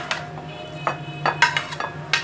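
Minced meat for kofta tipped into oil in a pan, heard as scattered clinks and scrapes of a utensil on cookware over a faint steady hiss, with a few sharper knocks near the end.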